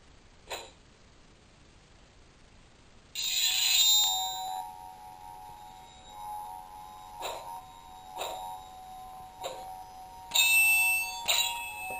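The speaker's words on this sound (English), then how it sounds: "And finally, the last sound font." WonderForce Hitoren V3 lightsaber, a budget sound saber, running its last sound font: a steady electronic hum broken by several sharp metallic clash bursts, loud and close with no talking.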